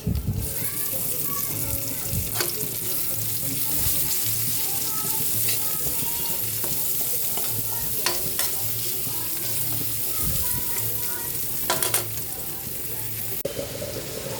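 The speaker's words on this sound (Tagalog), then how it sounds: "Lagyan na natin yung sibuyas." Onions frying in a pan for a pineapple chicken dish, giving a continuous close sizzle with occasional stirring clatter and spoon knocks throughout, alone without speech.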